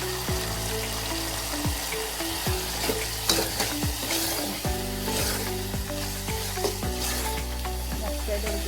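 Ridge gourd vegetable with crushed peanut powder sizzling and frying in a pan, a constant loud crackling hiss with occasional stirring scrapes and clinks, close up.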